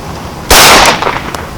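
One sharp, loud pistol shot cracks at a shooting range, a single close report that rings briefly and then fades.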